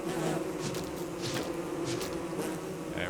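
Bees buzzing in the Don't Starve video game: a steady, droning insect hum with several overlapping wings, close and continuous, fairly quiet with no talking.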